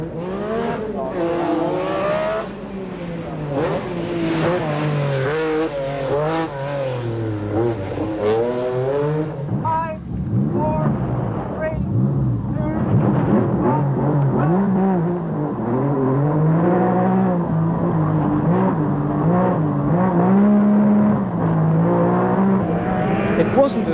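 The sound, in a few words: rally cars racing on a tight circuit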